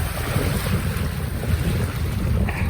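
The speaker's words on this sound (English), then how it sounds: "Wave just hit me now" Estuary water splashes against a small boat in blustery wind, a short wash of wave noise mixed with strong wind buffeting on the microphone.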